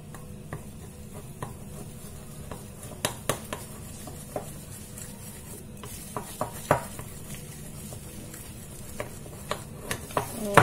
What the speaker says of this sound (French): je vais mélanger pour faire rentrer ce cacao dans cette pâte